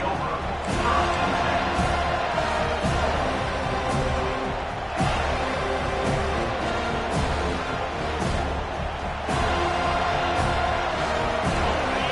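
Dense football stadium crowd roaring at a college game, a loud sustained wall of noise with swelling bursts and sharp thumps throughout, carrying steadily for the whole stretch.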